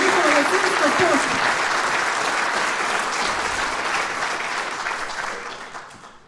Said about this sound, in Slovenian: Dajmo še en velik aplavz spodbuda za njihovo gasilsko pot.